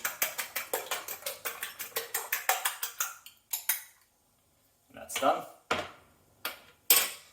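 A fork beats rapidly against a bowl in a quick, even run of sharp clinks, then slows to a few scattered scrapes and taps after a pause. A short spoken remark is heard near the end.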